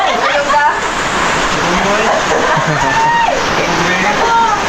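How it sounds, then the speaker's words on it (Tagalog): Loud, steady rush of rain pouring down, a constant hiss filling the scene, with faint bird or animal calls faintly above it. "Grabe ulan mga idol."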